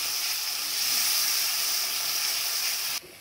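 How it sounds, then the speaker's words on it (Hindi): Cumin and coriander powder masala fry in a pan for a prawn curry, giving a steady close sizzle and hiss that runs evenly for about three seconds, then drops off sharply at the end. "1/2 टीस्पून जीरा पाउडर डालेंगे और 1/2 टीस्पून धनिया पाउडर। अच्छी तरह भून लेंगे।"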